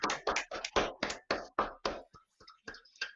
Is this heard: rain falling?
no